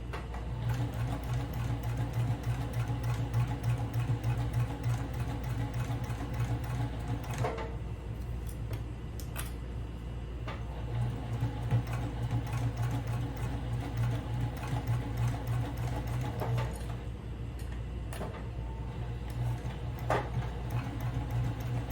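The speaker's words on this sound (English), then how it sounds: "Lower it and continue to sew." Sewing machine stitching the side seam of a shoulder bag, a steady rapid needle whir running continuously at moderate level, with a few brief clicks and pauses from small adjustments.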